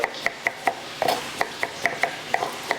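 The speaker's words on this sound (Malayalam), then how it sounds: "ഫ്രൈഡ് റൈസിന് ആവശ്യമായ കോളിഫ്ലവർ ചെറുതായിട്ട് നമുക്ക് അരിഞ്ഞെടുക്കാം" Cauliflower finely chopped with a knife on a board for fried rice, a rapid series of sharp, evenly spaced chopping knocks, close and clear with no talk.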